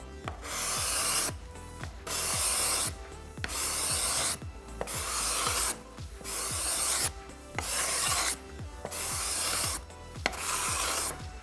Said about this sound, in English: That's a cabinet scraper.